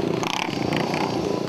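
Motorcycles at a motorcycle event in the Manaus Sambódromo, a continuous loud engine drone with fluctuating revs and crowd or talk faintly mixed in.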